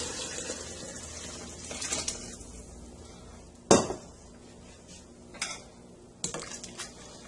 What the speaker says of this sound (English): Mix it all together really good.